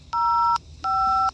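A Samsung Galaxy S20 BTS edition phone plays two short, clear dual-tone keypad beeps in quick succession, close and alone over faint background noise.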